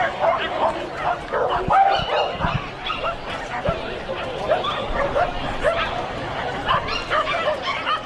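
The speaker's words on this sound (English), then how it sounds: "And the dog barking its affirmations that came around the wing of number 3." At an international agility festival a Cocker Spaniel gives repeated sharp yapping barks during its run in a busy indoor arena, heard under continuous commentary and crowd noise.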